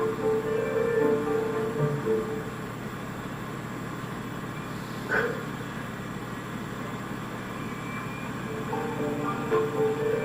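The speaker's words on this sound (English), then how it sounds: "the sounds of hissing steam and squeaking metal" A stationary steam locomotive rumbles with a steady low hum, a brief hiss of steam midway, and faint metallic squeaks scattered over the noise, in light snow.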